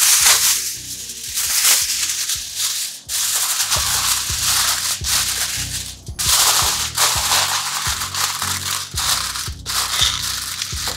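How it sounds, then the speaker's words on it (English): Aluminium foil crinkled and crushed over a roasting tin of cauliflower for a tandoori chicken meal: loud, close bursts of crackling and scrunching in repeated handfuls, with brief pauses between them and no talk. "and then we're going to foil it."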